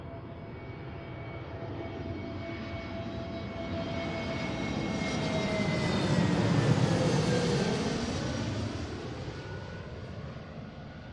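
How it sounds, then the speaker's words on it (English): An American Airlines Airbus A321 on a two-mile final into runway 34 left at Seattle, its jet engines roaring loud and steady, swelling as it passes close overhead with whining tones sliding down, no talk. "Definitely different sounding engines."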